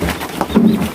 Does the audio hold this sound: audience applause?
no